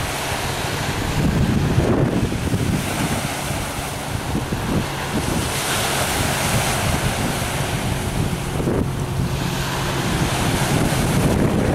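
Ocean surf at East Beach on the Connecticut shore rolls in as a steady, broad wash of breaking waves, loud and continuous, mixed with gusty wind buffeting the microphone.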